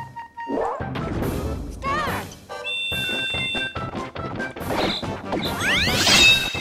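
In the Bash and Cash minigame of Mario Party, Wario is struck again and again by loud, rapid smashing and thwacking hits mixed with game jingles and sliding tones, while voices talk over the action.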